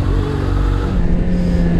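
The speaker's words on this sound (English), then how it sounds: "I'll do a Busa wheelie." A Suzuki Hayabusa motorcycle engine revs hard for a wheelie, a loud, close, continuous roar with rising and falling pitch.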